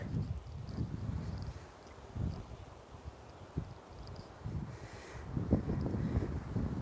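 Wind gusts across open hills on a reservoir walk, buffeting the microphone with a steady low rumble that swells and eases in irregular surges, heard alone without speech.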